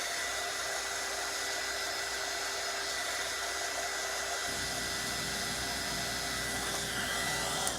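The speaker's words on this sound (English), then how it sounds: "I'm going to dry it some with my heat gun" A heat gun blows a steady, loud whooshing roar while drying the coating on a wood grain barrel football tumbler, running continuously and close up, its tone shifting slightly partway through.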